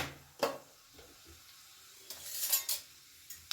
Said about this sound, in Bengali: ভালো করে কয়েক সেকেন্ড একটুখানি ফোড়নটা নেড়ে নেব